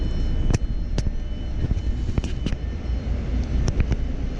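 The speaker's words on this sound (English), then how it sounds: "I'll let the engine run for about half an hour" A coach bus engine idles steadily as a continuous low rumble throughout, with several short sharp clicks or knocks scattered over it and no talking.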